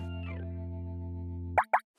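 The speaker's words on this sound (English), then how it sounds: "It's a monster cleaning its feet." Cartoon sound effect of a monster cleaning its feet, made of a sustained tonal squeaky drone that ends in two quick wet plopping pops.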